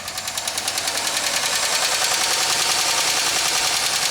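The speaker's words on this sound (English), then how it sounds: "That definitely sounds like upper end noise." Engine with upper-end noise from a collapsed lifter clogged by contaminated oil, a loud, close, rapid rhythmic ticking and knocking that speeds up over a steady running drone, with no voices.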